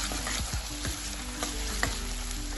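Chopped onion sautéing in a pan for misal, a steady sizzle and frying hiss with several soft scraping stirs of a spatula, close and continuous.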